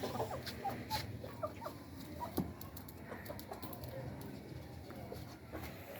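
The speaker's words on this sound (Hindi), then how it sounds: "ये भी प्योर असील है मुर्गी" A pure Aseel hen, a tall-bodied breed that has just started laying, clucks softly and repeatedly amid other chicken sounds and busy farmyard background noise.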